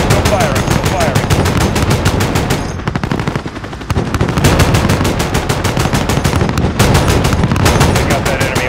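An attack helicopter's gun fires in Call of Duty Modern Warfare as loud, rapid, evenly spaced bursts of automatic fire. Two long strings are broken by a brief pause, with radio chatter underneath.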